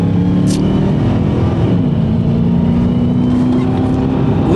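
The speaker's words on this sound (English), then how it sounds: "Listen to his engine." A car engine revs steadily, loud and close, with a sustained drone that climbs slightly in pitch as it accelerates, heard from inside or beside a moving vehicle during a traffic encounter.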